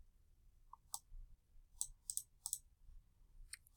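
Computer mouse clicks while editing nodes in Inkscape: a handful of quiet, sharp clicks, some in quick pairs, spread over a few seconds against a near-silent background.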